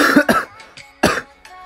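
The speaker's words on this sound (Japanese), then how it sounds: "いや、咳が。" Several harsh, close coughs in quick succession, two stronger bursts followed by smaller throaty ones, with no talking.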